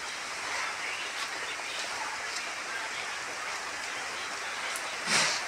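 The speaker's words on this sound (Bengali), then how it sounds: "বাড়ির কাজ তো চলতেছে, অনেক বৃষ্টি" Heavy rain falls around a house where construction work is underway, with coconut trees nearby, making a steady, dense hiss that holds evenly throughout, with a brief louder splash near the end.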